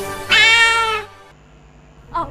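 A cat meows once, loud and drawn out, in a Power Cat cat food advert, followed after a pause by a short, fainter second mew.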